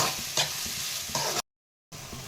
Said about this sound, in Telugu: ఆనియన్స్ చూడండి బాగా ఫ్రై అయింది కదా